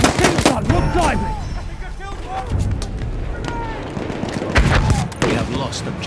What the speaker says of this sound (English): Machine gun! One of theirs! Machine gun!